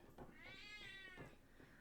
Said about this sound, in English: That howling you hear is my cat.